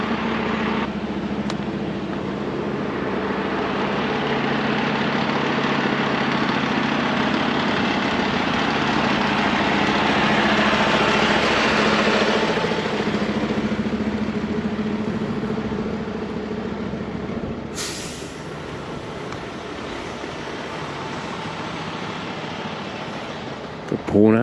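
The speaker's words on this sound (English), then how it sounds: "we got a fire truck going back" A fire truck idling on a neighborhood street makes a steady low engine drone, heard from nearby as a continuous hum under a person speaking, with a brief clatter near the end.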